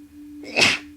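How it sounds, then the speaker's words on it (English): A single sharp sneeze from a video game character, rising quickly and fading within about half a second over a steady low electrical hum. "Oh, sneezing, son. It's like so much sneezing."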